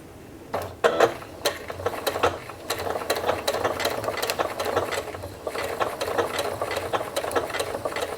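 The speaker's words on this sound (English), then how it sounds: "All right, so I'm gonna start sewing. I'm gonna go super slow." A sewing machine stitches a reusable fabric gift bag at a slow, reduced speed setting, giving a steady close mechanical whir with a rhythmic needle clatter that starts after a brief pause and runs alone to the end.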